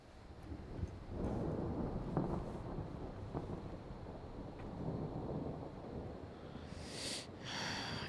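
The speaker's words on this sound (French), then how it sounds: "Encore dans une tempête." Thunderstorm in a video game: a sustained low rumble of rolling thunder with steady rain-like noise throughout, a few sharper cracks early on, and a brief hiss of wind near the end.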